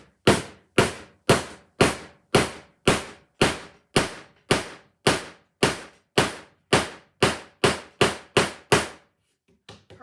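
Steady hammer blows drive a piece into a shallow drilled hole in cabinet wood, about twenty sharp, evenly spaced strikes ringing out close and loud, then stopping.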